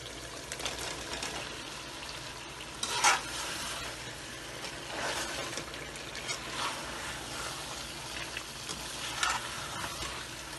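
Chicken sizzles and fries in a pot for chicken tahiri biryani, a steady soft crackle with occasional louder scrapes and clinks of a spoon stirring.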